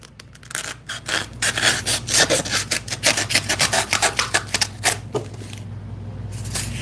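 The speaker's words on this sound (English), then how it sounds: "It's probably pretty abrasive, this wheel." A knife being sharpened on a fairly abrasive wheel after cutting cardboard, heard as close, rasping grinding passes in quick irregular bursts, loud and gritty, with a brief pause near the end.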